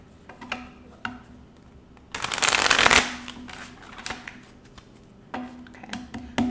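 Tarot cards shuffled close up in one loud riffling burst lasting under a second, with softer taps and handling of the deck before and after.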